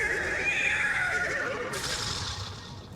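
A horse in the Destiny 2 video game gives one drawn-out, loud neigh that falls in pitch and fades, with a brighter breathy snort near the end and no talking over it.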